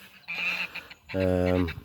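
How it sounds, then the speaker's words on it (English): Geese on an off-grid smallholding honk loudly nearby, a burst of nasal calls followed by a longer, strongly harmonic honk, with faint outdoor background noise. "Then just beyond is there you go, the geese."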